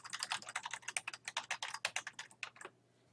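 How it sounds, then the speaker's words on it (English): Fast typing on a computer keyboard while entering text in Word Online, a quick run of close, crisp keystrokes for under three seconds before stopping. "You'll notice that as I type information,"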